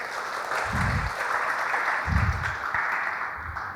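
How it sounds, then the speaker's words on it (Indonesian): Congregation applause fills a church youth worship service marking the 73rd anniversary of P3MI Bethlehem, a steady wash of clapping with a few deep low thumps rising through it. "Tepuk tangan untuk Tuhan Yesus"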